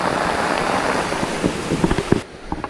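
Steady rain hisses across the whole clip at Madakaripura waterfall in Probolinggo, with scattered louder drops and splashes near the end as the downpour briefly thins.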